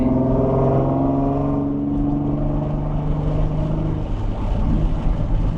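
Nissan 370Z with a VQ engine, fitted with a 2023+ Nissan Z exhaust, sounds as a loud, steady low exhaust drone with rising and falling engine tones, changing as it revs and moves through the closing seconds.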